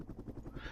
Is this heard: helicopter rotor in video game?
yes